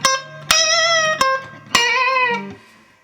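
Four plucked electric guitar notes, each ringing out and bending in pitch, clean and close with short gaps between them.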